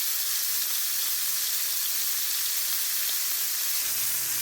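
Chicken breast seekh kebabs frying in a pan give off a constant dense sizzle, close and even, with faint rumbling underneath and no voice.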